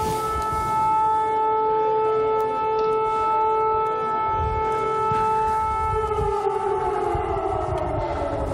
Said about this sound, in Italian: Praticamente è suonata per adesso la sirena e stiamo scendendo tutti da dove prima siamo saliti